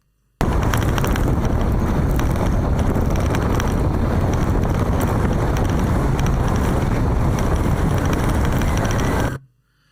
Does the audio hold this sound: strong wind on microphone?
yes